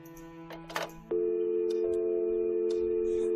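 Telephone in a mansion setting of a video game: a brief burst of dialing clicks, then a steady electronic tone holds alone, loud and close, until the end.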